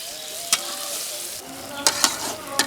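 Chopped onions being browned for chicken roast sizzle in a pan with a constant hiss, broken by a few sharp spatula scrapes and knocks as they are stirred.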